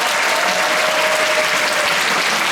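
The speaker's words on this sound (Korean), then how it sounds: "함성 대신 뜨거운 박수를 부탁드리겠습니다" Dense applause from a musical theatre audience at a curtain call, a continuous wash of many hands clapping at close range with a faint steady tone running through it and no talking.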